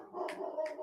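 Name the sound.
dog barking in the background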